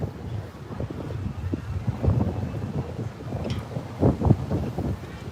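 Rumbling gusts of wind batter the microphone, producing uneven low-frequency thumps and roaring bursts that swell and fade throughout.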